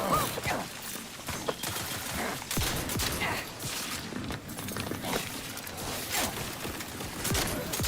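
Gunfire in The Outer Worlds 2: dense, continuous firefight with many overlapping shots, both near and distant, plus clattering impacts and movement in a busy battle.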